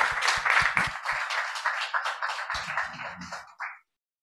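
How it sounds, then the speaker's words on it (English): Conference audience gives a round of applause for four speakers, a dense burst of many hands clapping that holds steady for several seconds then thins out and stops. "maybe a round of applause for our 4 speakers for keeping the time"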